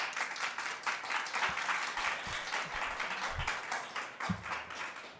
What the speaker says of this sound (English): we're not going to waste time by having outbursts and applause